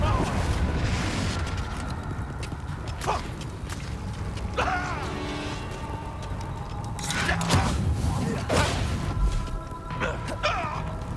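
Confringo fire-blast spell explosions in Hogwarts Legacy, booming bursts and crashes over a continuous rumbling combat din lasting several seconds, with voices speaking over it.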